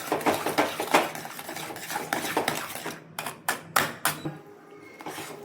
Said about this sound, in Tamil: நல்லா கிண்டிக்கோங்க.